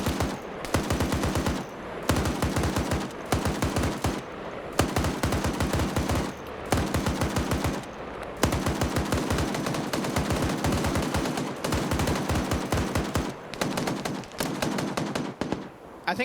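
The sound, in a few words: gunfire from the video game Arma 3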